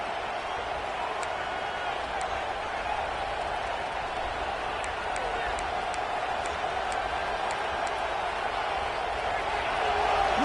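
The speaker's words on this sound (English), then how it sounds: "Listen to the crowd energy here in the early going." A stadium crowd at an Oklahoma vs Georgia college football game makes a steady, distant roar throughout, with a commentator talking over it and the noise swelling slightly at the end.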